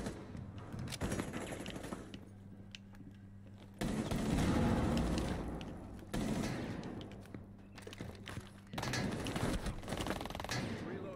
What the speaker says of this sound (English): this gun shoots too quick